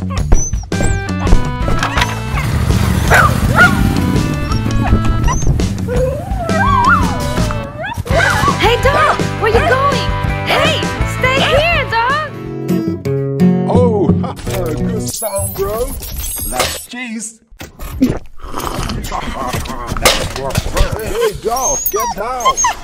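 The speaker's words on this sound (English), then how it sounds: "Go away, dog." A dog barks and whimpers in an animated action scene, with yips and whining cries over loud music and effects while voices talk throughout.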